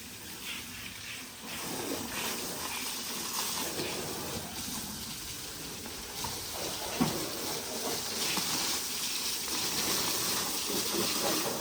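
Continuous hissing spray of water hosed over a modified Honda Civic during a wash, fairly quiet and steady with slight surges, no voices.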